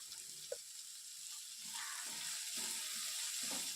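Onion, carrot, green chilli, curry leaves and salt sauté in a pan with a faint, soft sizzle, a light tap early on and a few gentle stirring scrapes later.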